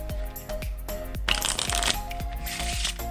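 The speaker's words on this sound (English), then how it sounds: "But either way, the cards get thoroughly shuffled." Playing cards riffled and mixed by hand during a close-up magic card trick, a run of quick papery riffles and snaps, close and fairly loud, with bursts of bright flutter in the middle and near the end.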